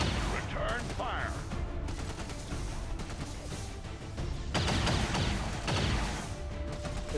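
Bursts of gunfire from the XCOM 2 video game rattle out in rapid volleys, with sharp cracks and crashing impacts grouped into two louder clusters. Voices from the game speak between the shots.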